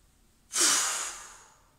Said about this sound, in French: Donc on inspire.